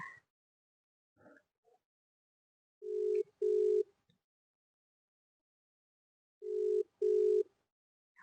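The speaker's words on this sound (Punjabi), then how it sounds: "ਉਹਨਾਂ ਨੂੰ ਫੋਨ ਲਾਉਣੀ ਆ" Telephone ringback heard while calling someone: two rounds of paired electronic tones with a long silent gap between them, clear and close in an otherwise quiet room.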